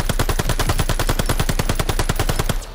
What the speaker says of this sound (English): the occasional bullets flying by.